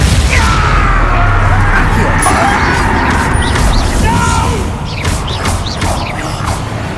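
Confringo spell explosions in the video game Hogwarts Legacy, loud crashing booms and rumbling blasts layered over constant battle noise, with a brief shouted voice.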